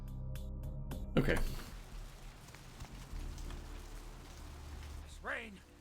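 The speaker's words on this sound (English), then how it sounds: "This rain is the pungent sewage of hell, seeping into the cracks of this putrid purgatory." Steady rain falls in Vampire: The Masquerade - Bloodlines, a constant wash of patter under a game scene, with a brief louder burst early on and a short tonal sweep near the end.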